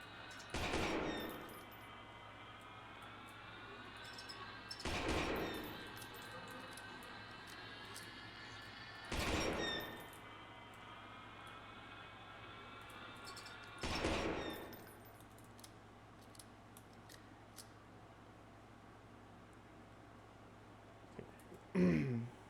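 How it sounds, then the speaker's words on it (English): In the horror video game Lost in Vivo, four loud, sharp shotgun and pistol blasts ring out, spaced about four to five seconds apart, over a low, steady ambient drone. "Takes 3 shots with a shotgun. 2 with the pistol."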